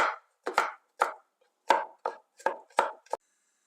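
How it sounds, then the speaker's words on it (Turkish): Several garlic cloves chopped coarsely with a knife on a board, about nine crisp, evenly spaced chops that ring out close and alone. "Üzerlerine bastırıyorum ve iri olarak doğruyorum."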